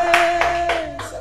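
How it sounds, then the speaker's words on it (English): Several sharp hand claps of classroom applause in quick succession, close and fairly loud, with a steady tone running underneath. "A round of applause for him."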